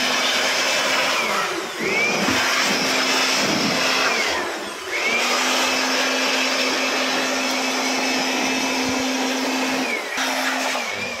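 A technician's blower clearing dust on a risky work site, a loud steady motorised roar running almost throughout with a few brief dips where it is throttled down, no talk over it.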